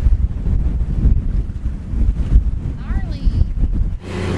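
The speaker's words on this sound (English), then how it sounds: "It's a windy, blustery day" Strong wind buffets the microphone in a constant low roar, with a brief faint voice partway through.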